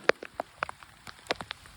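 Rain patters down during a bike ride, with scattered sharp drop taps landing irregularly and close by over a soft, faint background wash.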